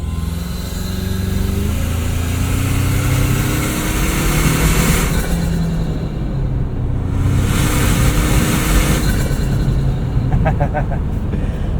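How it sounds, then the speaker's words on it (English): Toyota 4Runner Trailhunter engine in sport mode, heard from inside the cabin with a passenger window cracked open. A steady engine drone rises in pitch as it builds boost over road noise, with a brief shift partway through. "Sport mode, crack the passenger window. Let's make some boost noises."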